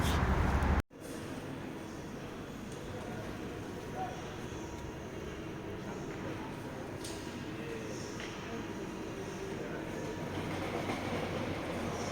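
Near Charles de Gaulle outside Paris, a train passes at a distance as a steady low rumble and rolling rail noise that holds evenly for the whole stretch, faint and continuous beside a cycle path.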